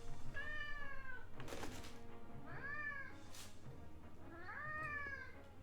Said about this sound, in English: The cat wants attention. I think he might want food.